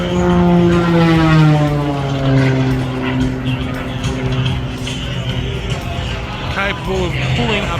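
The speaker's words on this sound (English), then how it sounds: "champion pilot Matt Hall in his Red Bull racing plane" A Red Bull racing propeller plane flown at an air show, engine drone with a falling pitch as it passes, loud and close, with a commentator talking over it.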